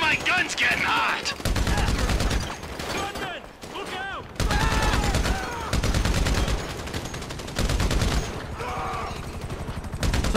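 Gunfire in Grand Theft Auto 5, loud sustained bursts of rapid automatic shots in several long volleys, mixed with game music and voices talking.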